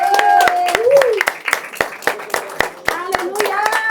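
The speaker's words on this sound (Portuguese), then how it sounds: "Uma salva de palmas." Church congregation applauding, a burst of rhythmic hand clapping with voices calling out over it, loud and close.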